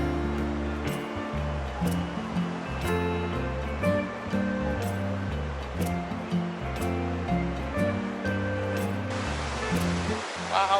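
Waves of the South China Sea wash steadily onto a beach at Kuala Belait, Brunei, a continuous close surf roar with rolling swells and no talk.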